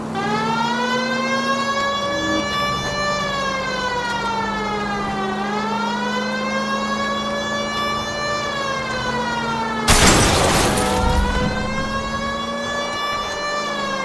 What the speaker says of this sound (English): Please, Phelps, the siren.